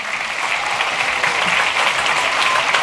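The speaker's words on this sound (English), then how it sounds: "Now y'all are, yeah, you can clap." Steady, dense applause from a large audience at a speaking event fills the space continuously, loud and close, with no voice on top.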